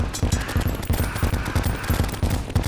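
Rapid bursts of cannon fire in the Terraria video game during a hectic Frost Moon battle, a dense rhythmic volley of booming shots repeating several times a second, loud and continuous with no talking.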